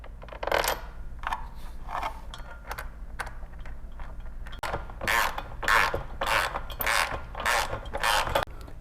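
A nut is threaded onto a bolt beneath the rear seat of an EZGO TXT golf cart during installation of a TREX Harmony rear seat kit, giving a series of close metallic ratcheting, clicking bursts with no talk.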